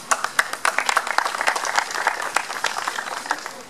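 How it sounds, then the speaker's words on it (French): Audience applause for top students at a Campus France reception, starting with a few scattered claps and quickly swelling into steady, fairly close clapping from a room of people. "on peut vous applaudir."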